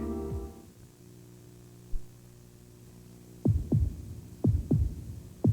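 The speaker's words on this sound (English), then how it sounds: "Listen to the heartbeat." A steady low hum fades out, then a slow heartbeat thumps in deep paired beats, lub-dub repeating several times, close and resonant.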